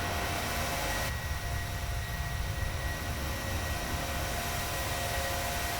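Boeing 737-800 jet engines in a flight simulator climb out after takeoff from Tampa, a steady broadband roar with a constant hiss, unchanging and fairly quiet throughout.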